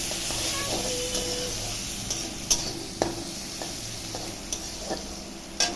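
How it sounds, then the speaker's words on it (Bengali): Chopped onions with cumin, salt and turmeric fry in a pan with a steady sizzle, while a spoon stirs and scrapes now and then, giving a few sharp clicks. "পেঁয়াজটা ভাজা ভাজা হোক"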